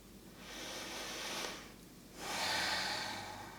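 Two long, close breaths drawn and released by a person lying face down on a yoga mat with one cheek resting on it, the second breath fuller and louder, soft and airy with a brief pause between them.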